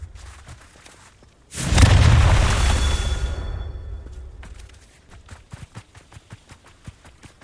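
A Confringo blasting spell erupts in Hogwarts Legacy with a loud, sudden blast that swells into a long rumbling roar and fades over a few seconds, followed by faint scattered taps and footsteps.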